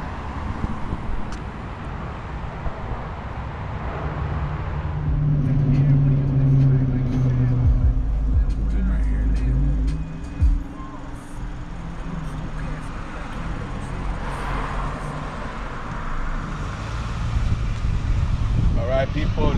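Inside a moving car on a road near Dodger Stadium in Chavez Ravine, Los Angeles, a steady low road rumble and wind noise run throughout, rising and falling slightly, with people talking over it.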